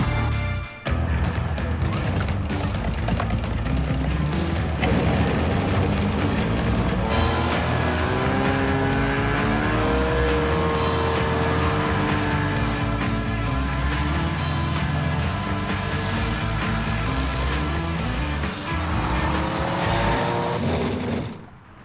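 An amphibious all-terrain vehicle, street-legal on Michigan waterways and the Great Lakes, drives off with a loud, steady engine drone that rises and falls in pitch as it accelerates, close and continuous for the whole stretch.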